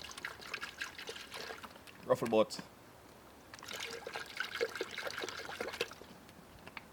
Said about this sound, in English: what first thing I'm gonna do is just put some water,